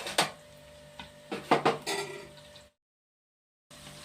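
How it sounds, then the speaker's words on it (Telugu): A handful of close metallic clanks and scrapes as a lid is set on a cooking pot, followed by a sudden break into silence. "ఒకసారి మూత పెడతాను"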